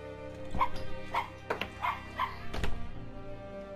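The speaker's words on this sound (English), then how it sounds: "Shut up, dog!" Dog barking in Everybody's Gone to the Rapture, a handful of short sharp barks and yips spaced about half a second apart at moderate distance, with a dull thump near the end.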